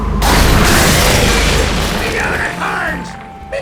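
Cannon firing a cannonball in the video game Tales of Monkey Island: a loud, close boom that swells and rumbles away over a few seconds, followed by a brief clatter near the end.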